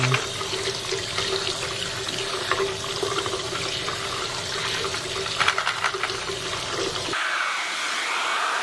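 Running water pours steadily from a tap over bearings being rinsed, a close splashing rush that cuts off abruptly near the end, leaving quiet hiss.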